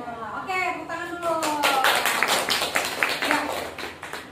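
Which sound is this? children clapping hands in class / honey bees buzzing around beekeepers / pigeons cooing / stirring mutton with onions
children clapping hands in class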